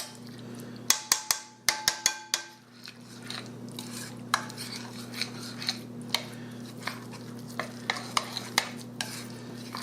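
A spoon stirs ricotta, Parmesan, minced garlic and Italian seasoning in a bowl for lasagna, with sharp clinks against the bowl at first, then a run of softer scraping strokes in a quiet kitchen with a steady hum behind.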